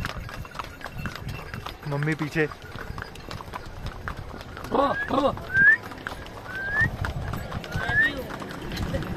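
A horse carrying a rider through the Gulmarg valley near Srinagar clip-clops along with steady hoof falls. Loud talk sits over the hooves, and a short whinny comes through.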